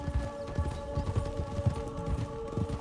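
Horse hooves clip-clop in a Western roleplay video game, a steady rhythmic trot of close, even beats that runs throughout with no talking over it.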